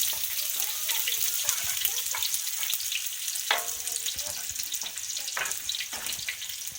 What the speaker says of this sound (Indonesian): Setelah minyaknya panas, kita masukkan bawang yang sudah diiris